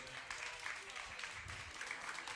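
Audience applause closing a discussion with New Orleans mayoral candidates, a brief, fairly faint spread of clapping with some crowd murmur beneath it.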